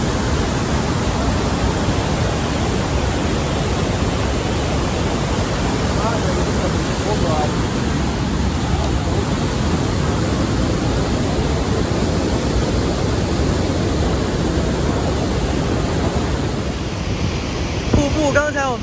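Rhine Falls waterfall in a continuous loud roar of rushing water, with turbulent current below a viewing platform on the central rock, a dense steady wash filling the whole stretch.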